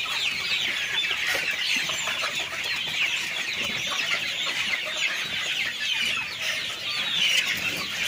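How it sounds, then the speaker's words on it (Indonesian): A dense chorus of many native village chickens clucking and chattering together continuously in a coop, close by and steady, with no one speaking. "Ini ayam kampung asli, bukan juper, bukan yang lain."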